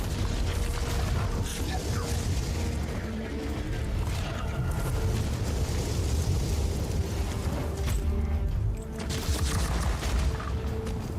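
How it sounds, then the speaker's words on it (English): Grenades go off in the Warhammer 40K: Inquisitor - Martyr video game, a dense continuous barrage of booms and rumbling blasts with crackling debris, loud throughout. "And here comes all the grenades."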